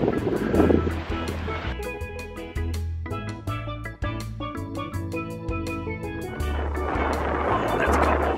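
Ocean waves surging onto a Florida beach near Daytona, a loud steady wash of surf with wind buffeting the microphone and no talk.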